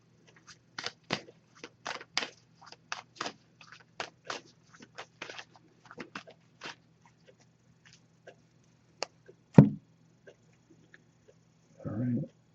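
A rapid series of crisp oracle card riffles and snaps, one burst after another, close by and fairly quiet, with a soft rustle near the end.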